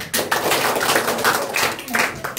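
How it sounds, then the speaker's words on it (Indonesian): A church congregation at an HKBP worship gathering claps hands together, a short burst of brisk, dense clapping filling the whole moment. "Tepuk tangan."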